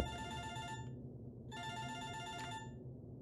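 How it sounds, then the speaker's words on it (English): A phone rings in the Winter Survival video game with two bursts of an electronic ringtone, each about a second long and separated by a short gap, over a steady low background hum. "It's ringing. Is that a Nokia phone?"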